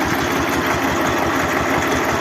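A Lider 220D tractor engine runs steadily nearby, a dense, continuous mechanical drone with a low, pulsing rumble and no voices.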